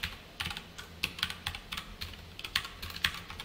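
Code is typed on a computer keyboard in quick, uneven clusters of close, crisp key clicks, without any talk over them.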